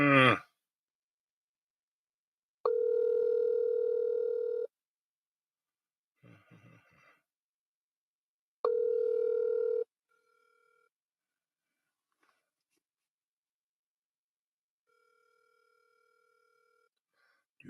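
Phone call ringing out before voicemail picks up: two long electronic ring tones with a gap between them, a short faint burst of sound in the pause, then a quieter tone, otherwise near silence.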